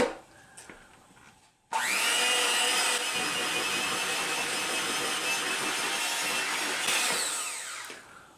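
Electric mixer whirring steadily at low speed through carrot cake batter, starting abruptly after a quiet moment and running loud and close for several seconds before tapering off.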